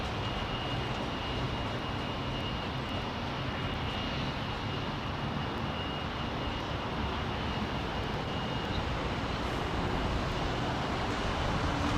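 American Airlines flight 39 to Miami at London Heathrow, a jet's engines giving a steady, continuous broadband roar that holds at an even level throughout, with no voices.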